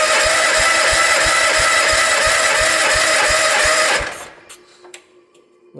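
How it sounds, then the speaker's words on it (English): A 1973 John Deere 140 H3 lawn tractor engine cranks loudly and steadily with a rapid rhythmic starter churn for about four seconds without firing, then stops, leaving quiet clicks and faint rustle. "it cranked a whole lot faster, like it was trying to help itself along, but it did not fire"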